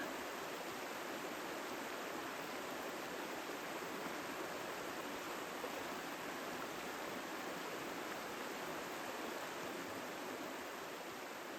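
The Lyre River flows past a campground in Washington State, a steady, even rush of moving water, soft and continuous with no voices or other sounds.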